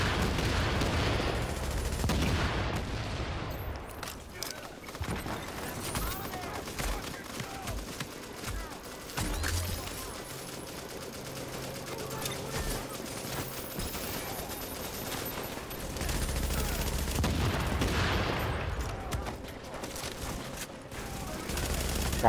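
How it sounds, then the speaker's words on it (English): Explosive-round gunfire from a firefight in Tom Clancy's The Division on hard mode, with rapid dense bursts of shots and booming impacts that come and go in waves across the whole stretch. "I'm gonna have to pop explosive bullets."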